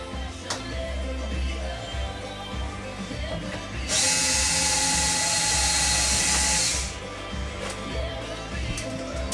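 A power drill bores a hole in a revolver build part, whining loudly and steadily for about three seconds at close range, framed by quieter shop handling noise and small clicks.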